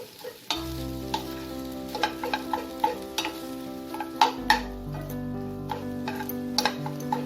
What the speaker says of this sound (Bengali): এটাকে আমি মিক্স করতে করতে স্প্যাচুলা দিয়ে এরকম করে একটু ম্যাশ করে নেবো, ভালো করে মিশিয়ে নেব।